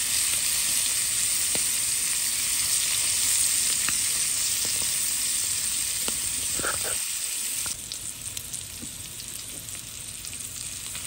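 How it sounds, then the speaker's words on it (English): Scallops searing in a hot pan, a steady loud sizzle and hiss that runs throughout at close range, easing slightly toward the end with a few small pops and faint talk. "So now I will sear them for 3 minutes."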